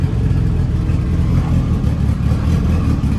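Boosted Honda B18 engine held on two-step launch control, a loud, rough, steady idle-rev drone with choppy, popping low-end pulses throughout, close up and without speech.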